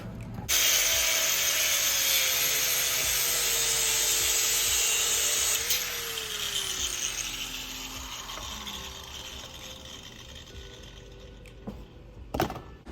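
A plastic radiator fan shroud on a Pontiac Fiero is cut with a power tool, a loud steady grinding whine for several seconds that trails off into softer rubbing, ending with a sharp knock.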